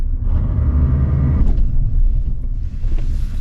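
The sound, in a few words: Chevrolet S10 pickup accelerating off-road with traction control working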